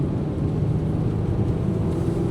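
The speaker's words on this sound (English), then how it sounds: "This car sounds amazing." Porsche 981 Boxster S with a six-speed manual, sport exhaust and a 997 GT3 throttle body, giving a steady, even low drone of engine and road noise from inside the moving car, with no talk.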